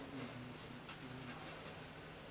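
A Sharpie marker colors in hexagons on paper with close, quiet scratchy strokes in short repeated bursts.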